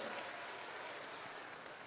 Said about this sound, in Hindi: तालियों की गड़गड़ाहट से कपिल को भी हम लोग धन्यवाद अर्पित करें।